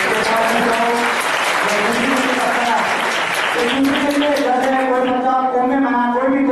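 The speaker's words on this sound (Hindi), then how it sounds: "तालियां होनी चाहिए।" A crowd at a Hindu devotional gathering about Maa Durga path applauds, with loud continuous clapping throughout while a voice speaks or chants prominently over it.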